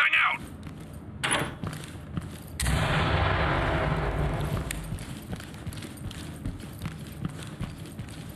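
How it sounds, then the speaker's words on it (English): A flashbang grenade goes off in the tactical shooter game Ready Or Not, a sudden loud blast that decays into a long ringing rumble, with sharper footsteps and gear clatter after it. "Flashbang out!"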